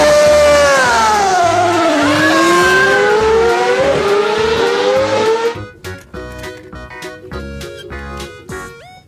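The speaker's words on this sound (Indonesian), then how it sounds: "Formula One." A Formula One race car screams past with a high engine wail that climbs and falls like a Doppler sweep for about five seconds, then cuts to bright background music.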